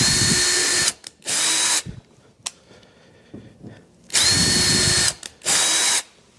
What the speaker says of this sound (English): And I'm going to go ahead and drill a few of these